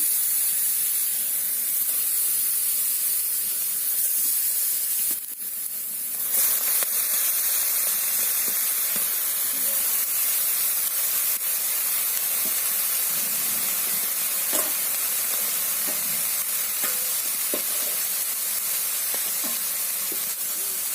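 Mourala fish wrapped in bottle gourd leaves sizzle in a hot pan, a steady loud hiss with scattered pops and crackles throughout.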